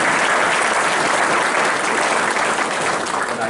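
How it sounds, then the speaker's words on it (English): An audience at an osteopathic alumni association awards ceremony bursts into loud, continuous applause for the award recipients, a thick, even roar of many hands clapping with no speech. "a round of applause now for all of our recipients"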